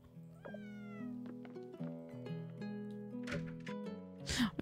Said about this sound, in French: Ah, il y a le chat aussi.